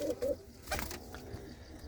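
A pigeon in a loft gives a short low coo, faint and brief, with a flutter of movement and light background noise around it.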